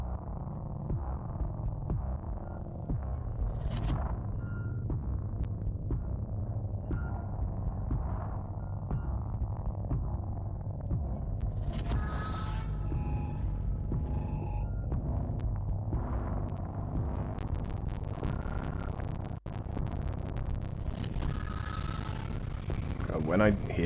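A distorted audio effect from the video game Observer: a throbbing, rumbling hum with crackling glitch bursts, steady and continuous throughout.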